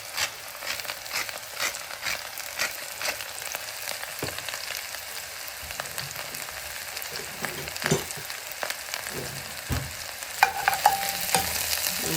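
Mushrooms sizzle steadily in a pot of vegan obe ata stew while a spoon stirs them, giving soft scraping clicks over a constant frying hiss, with no talking.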